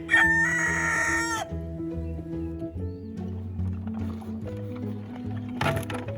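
Roosters crow in the dark before dawn, a loud raspy call at the start and another near the end, with softer clucking and other farm fowl calls between.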